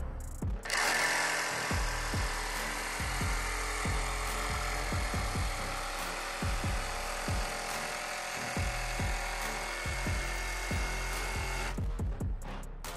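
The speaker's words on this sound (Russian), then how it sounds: "Если честно, Макита кажется наиболее точной, то есть я прям вижу, куда, куда она будет пилить." A Makita cordless jigsaw cuts steadily for about eleven seconds with pendulum action off, a loud continuous whine with a rhythmic low chatter of the blade, starting and stopping abruptly, with no talk over it.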